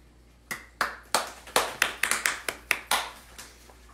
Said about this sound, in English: You hear how sad that applause was?